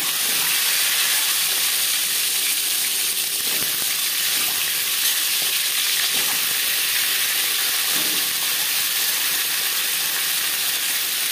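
Mustard oil heated on a high flame hisses and sizzles loudly and continuously as eggs fry in it, a steady close steam-like roar with faint clinks underneath.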